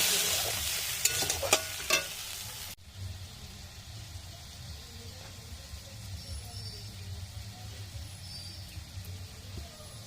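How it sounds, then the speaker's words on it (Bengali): Pangas fish curry with water added is stirred and fried in a pan: a loud sizzle with spoon scrapes for the first few seconds gives way to a quieter, low simmering bubble, with no voices. "এবার ভালো মতন কষিয়ে নেব"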